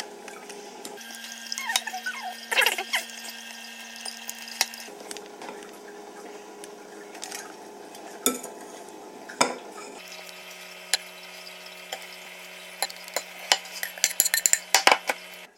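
Egg being mixed into a crumble mixture in a bowl, irregular scraping, squishing and knocking of a utensil against the bowl, with a steady mechanical hum running underneath.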